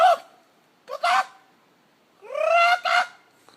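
A man imitates the mating call of a New Zealand tui bird with his voice, giving two short honking bursts, then a longer rising warble and a final burst, close and loud with silence between.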